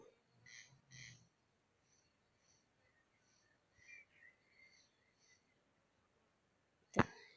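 Birds call outdoors during a nature walk with short, chirpy bursts spaced across several seconds, faint and somewhat distant, ending in a sudden sharp loud knock.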